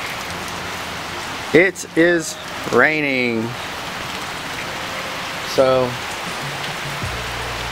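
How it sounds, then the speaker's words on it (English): Steady rain hiss fills the background on Christmas Eve while someone speaks briefly over it in a few short phrases. "as you can see, it is raining"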